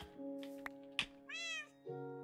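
A house cat meows several times, soft and fairly close, with drawn-out calls separated by short pauses in a quiet room.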